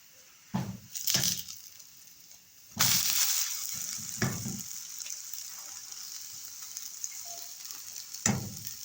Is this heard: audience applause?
no